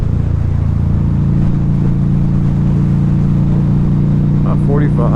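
A 2012 Harley-Davidson V-Rod Muscle motorcycle pulls on the road with a loud, deep, steady engine drone, mixed with rushing wind, heard close up throughout.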